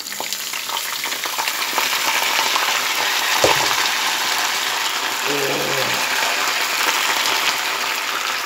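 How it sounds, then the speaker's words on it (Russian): Potatoes poured into a pan of hot lard, a loud steady sizzle and crackle of frying that fills the whole clip, with a brief clatter as they hit the pan. "Итак, высыпаем картошечку."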